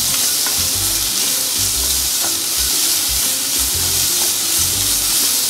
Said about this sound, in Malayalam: ഉള്ളി നന്നായി വഴറ്റുക